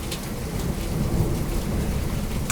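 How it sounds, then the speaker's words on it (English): Thunderstorm in the background: steady rain hiss and low rumbling under faint, brief crackles, filling a short stretch with no voices. "There's a thunderstorm going on right now."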